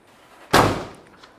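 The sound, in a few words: car door of a 1970 Ford Mustang Mach 1 shutting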